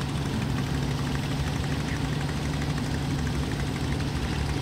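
A small wooden motorboat engine on the Barito River idles steadily and continuously, a low throbbing, knocking drone with no voices.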